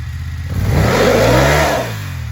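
A Yamaha Tenere off-road motorcycle stuck in mud, its engine revved hard in one short surge that climbs and then drops back, loud and close.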